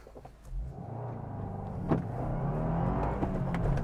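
A 2023 Subaru WRX accelerating hard through a corner on a road drive, engine note building from a low rumble to a steady louder roar heard from inside the car.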